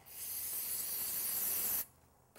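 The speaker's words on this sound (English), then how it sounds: "we're going to take our contact cleaner and spray it on the paper towel" Contact cleaner sprays from an aerosol can onto a paper towel in one steady hiss lasting nearly two seconds, close and fairly loud, then cuts off abruptly.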